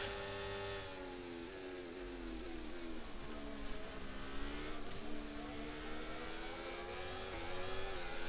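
Formula 1 race car engine in a racing video game at the Jeddah circuit, a continuous high-pitched whine that climbs and dips with gear changes and throttle, loud and steady throughout with no talk over it.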